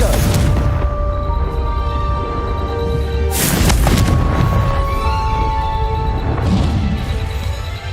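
Confringo blasting spell from Hogwarts Legacy, set against constant loud game ambience: a sharp burst around the middle, followed by a second, weaker burst near the end.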